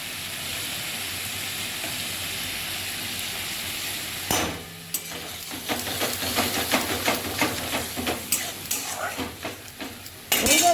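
Yogurt hits a hot pan of vegetable biryani base: a quiet background sizzle bursts into loud spitting and hissing, followed by irregular stirring scrapes and clinks against the pan.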